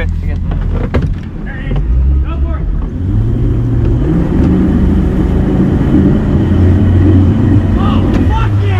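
An outboard boat motor runs in a swamp, a steady, loud, low drone that holds for the whole stretch, with voices talking over it.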